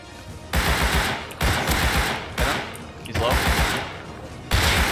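Loud bursts of automatic gunfire from Rust, a survival shooter game, come in several separate volleys of rapid shots, each lasting about a second, with a few brief pauses in between.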